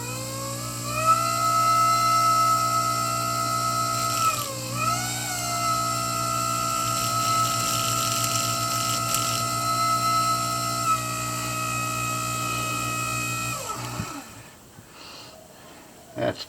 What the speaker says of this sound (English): I didn't clean this buffing wheel too well.